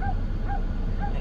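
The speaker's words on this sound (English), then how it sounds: "You hear that poor dog barking." A dog shut inside a parked car gives three short, high, whining yelps in a steady rhythm about half a second apart. They sound muffled and somewhat distant over a constant low outdoor rumble, with no one talking.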